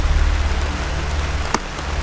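Steady rain patters on a muddy forest clearing, a dense continuous hiss with a brief sharper drip or splash near the end, no voices.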